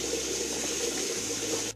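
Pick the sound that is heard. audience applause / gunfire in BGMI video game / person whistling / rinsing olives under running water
rinsing olives under running water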